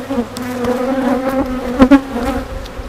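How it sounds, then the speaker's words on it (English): Steady, close buzzing of many honeybees around a hive frame during an inspection, with a low droning hum and a couple of brief louder swells, no talking. "Bees are definitely working this one."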